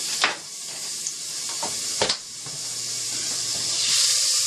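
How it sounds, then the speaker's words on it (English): Butter or margarine melting in a pot on a trucker's cooking setup, a soft steady sizzle and hiss with a few light clinks and scrapes of stirring, growing slightly louder toward the end. "put some butter, margarine in the pan"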